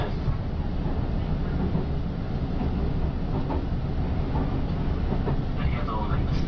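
Interior running noise of a JR Shikoku 8000 series limited express, heard from the 8300 trailer car between Marugame and Tadotsu: a steady, loud low rumble and rolling hiss with faint rhythmic rail clatter throughout.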